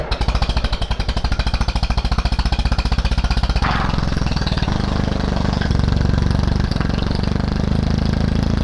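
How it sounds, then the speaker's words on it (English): A tractor's starter motor stays engaged and keeps spinning, giving a loud, steady, rapid mechanical whir and chatter that runs unbroken throughout with no pause or change. "The starter's not kicking out."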